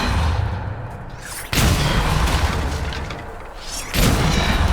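Two loud, close blasts of a Bombarda spell explosion in Hogwarts Legacy, each a sudden broadband boom that rolls on into a sustained rumble of debris.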